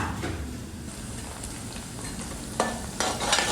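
Onions sautéing in a pan for green chicken, with a steady soft sizzle and a few spatula scrapes near the end, close and moderately quiet, no speech.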